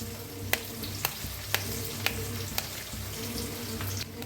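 Potatoes, onion and green chilies frying in a pan give a soft continuous sizzle, with a few sharp evenly spaced clicks of a utensil against the pan; faint and close, no talking.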